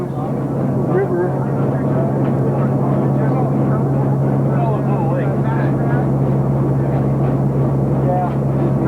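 A small airplane drones steadily in flight over Quebec farmland and river, a constant, loud cabin engine hum with people talking over it throughout.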